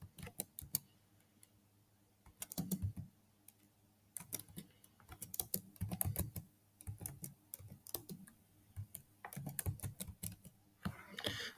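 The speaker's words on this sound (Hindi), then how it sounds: "इसके बाद एड्रेस लाइन में आप अपना जो नया एड्रेस है वो लिखेंगे" Someone types an address on a computer keyboard in close-up, in irregular bursts of crisp key clicks separated by brief pauses, with no one speaking.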